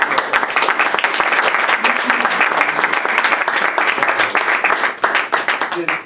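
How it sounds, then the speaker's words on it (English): Members at a Toastmasters club meeting clap in a lively round of applause, close, sharp hand claps with a few voices mixed in before it tapers near the end. "I just want to give one more round of applause"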